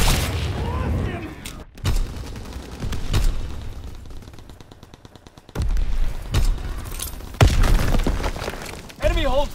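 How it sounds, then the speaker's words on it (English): In Call of Duty: WWII multiplayer, loud sharp bangs and bursts of gunfire punctuate the action, including a stun grenade blast, with a voice speaking over the clamor. "Tossing stun grenade."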